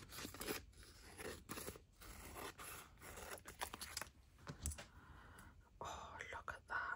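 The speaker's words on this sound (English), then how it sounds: "so I'm going to cut a strip off" Scissors cutting a strip of glassine paper, heard close up and faint as a run of crisp snips and crinkly scraping, with soft whispered talk mixed in.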